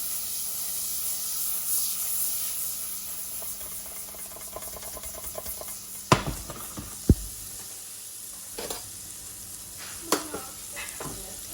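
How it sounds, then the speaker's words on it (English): Butter melting in a deep pan gives a soft, steady sizzle and hiss, with a few sharp clinks and knocks of utensils against the pan partway through. "take a tablespoon of butter. Melt that butter down."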